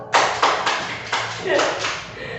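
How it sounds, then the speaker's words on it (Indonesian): Classroom clapping for a student group after their presentation, a handful of sharp, separated claps and taps with faint voices underneath. "Tepuk tangan untuk kelompok 2."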